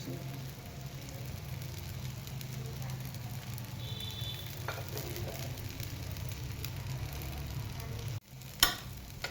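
A fasting-style dosa sizzles steadily in oil on a hot pan, a continuous close crackle and hiss, with a brief clatter of utensils near the end.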